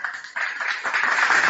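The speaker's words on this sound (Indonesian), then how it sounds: "Tepuk tangan." An audience claps together in a brief, dense burst of applause that holds steady and close for about a second and a half.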